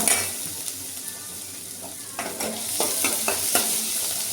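Potatoes sauté in a pan with a steady sizzle while a spoon stirs and scrapes, giving several clear clinks and scrapes against the pan, close and moderately loud with no talking.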